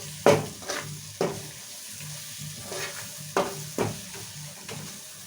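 Tomatoes fry lightly in a pan with a low steady sizzle, broken every second or so by sharp clacks of a spatula stirring and scraping against the metal, up close and without any talk.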